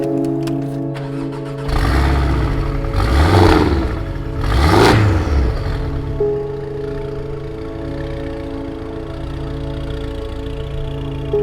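Go-kart engines during a racing class in Carmona, two loud passes whirring up and fading at close range over a steady engine drone, then a lower continuous hum.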